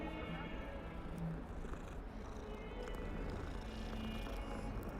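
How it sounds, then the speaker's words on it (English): Soft cat purring as the player character pets a cat in the Hogwarts Legacy video game, a steady low rumble lasting throughout, mixed with constant game background ambience. "Let's pet the cat."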